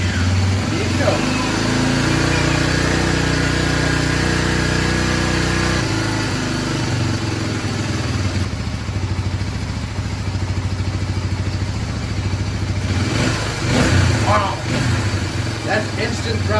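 A Big Red ATV engine with an upgraded carburetor runs loud and close, revving with quick throttle blips over a rough idle while people talk over it.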